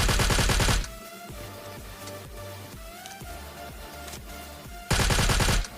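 Rapid automatic gunfire in the mobile battle-royale game PUBG Mobile Lite, two loud sustained bursts at the start and end with quieter in-game music and effects between them.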